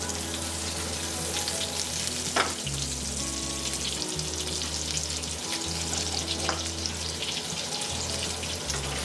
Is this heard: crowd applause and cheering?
no